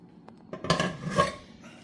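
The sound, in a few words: stirring homemade BBQ sauce in a pot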